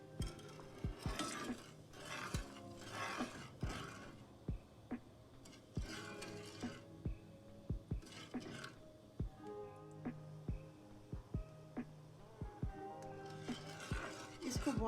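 Metal spoon clinks and scrapes against a pot while sugar syrup with water and four cardamom pods is mixed, a quiet run of light taps and knocks scattered across the stretch with soft background noise.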